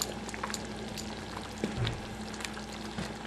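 Toasted coconut paste (kerisik) is stirred into a thick beef rendang curry with kaffir lime leaves, making a steady close bubbling simmer with soft scraping and squelching as the spoon moves, and no voices.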